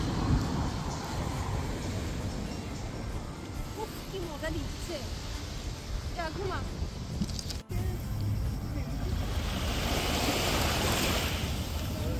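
Surf rolling onto a beach on Paros island in Greece, a steady continuous wash of waves with wind buffeting the microphone, while voices talk faintly over it.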